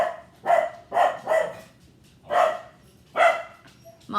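A household dog barks in five sharp, loud, close barks, spaced irregularly with short pauses between, with no talking over them.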